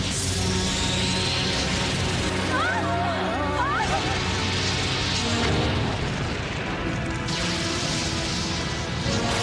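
An animated cartoon death blast, a loud sustained roaring explosion with rumbling booms and warbling synthetic tones layered over a dense dramatic soundtrack, continuous and close throughout.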